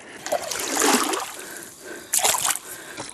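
Splashing and gurgling water as someone wades through a stream at night during a spring hunting trip, two close surges of sloshing with a quieter stretch between them.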